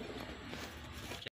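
A brief moment of soft pigeon cooing against a busy outdoor background, lasting just over a second.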